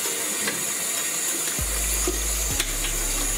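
A kitchen tap running steadily while raw chicken is washed for chicken soup, a continuous close hiss of water with a couple of brief changes in flow.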